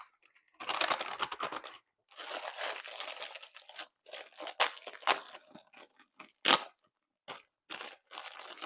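Dry noodles poured and rustled into a Mylar storage bag, giving bursts of crinkly, crunchy rattling close by, broken by short pauses and a sharp crackle of the foil bag near the end.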